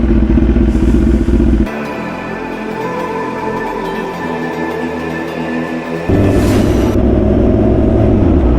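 BMW S1000RR motorcycle riding through Paris, a loud close engine roar that drops to a lower rumble in the middle, then swells back up with a steady drone.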